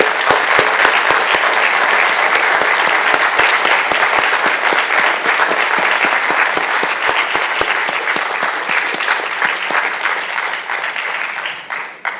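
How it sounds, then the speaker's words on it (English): A symposium audience gives a round of applause for the panelists at the close of a plenary session, loud, dense clapping that runs steadily for about twelve seconds before fading out at the end. "can we have a round of applause for our panelists?"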